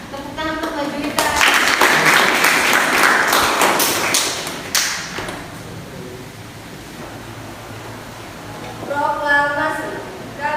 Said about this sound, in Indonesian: Tepuk tangan untuk Mbak Juwita.